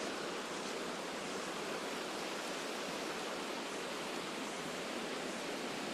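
Stream water flows beside a hiking trail in Muir Woods as a steady, faint, even rushing wash with no change in level and no talking.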